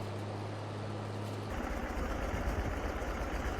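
A tractor in a farming game on a family farm by the Mississippi idles with a steady low engine hum, shifting to a rougher, louder rumble about halfway through.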